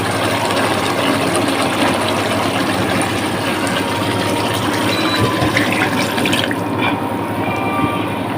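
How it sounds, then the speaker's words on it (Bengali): Chicken meat broth pours steadily into a cooking pot, a continuous close liquid rush and splash lasting throughout, with no talking. "এখন আমি মাংসের ঝোল দিব।"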